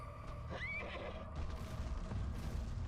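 A Pegasus horse in the God of War 2 video game lets out a single short whinny, fairly close and clear, over a low game rumble with a few dull thumps that continue after the call.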